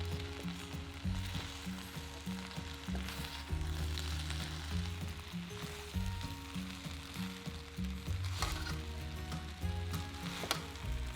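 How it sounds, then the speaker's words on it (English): Noodles and fresh bean sprouts with spring onions fry in a hot pan for mee goreng, a continuous dense sizzle with tongs clacking as everything is tossed, close and steady with no talk. "Cook those for about 3 to 4 minutes, tossing everything together with a set of tongs until hot."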